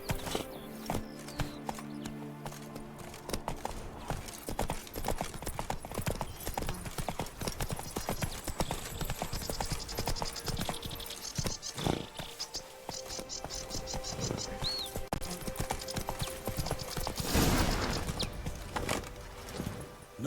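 A horse's hooves clip-clop steadily at a gallop in the open-world video game The Witcher 3, running throughout with insect and cricket chirps in the background.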